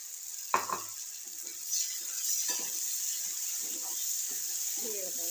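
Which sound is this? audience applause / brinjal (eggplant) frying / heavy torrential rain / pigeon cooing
brinjal (eggplant) frying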